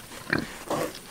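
Red wattle pigs grunt twice at close range on a farm, a short snorting burst followed by a longer, lower grunt, with no talk over them.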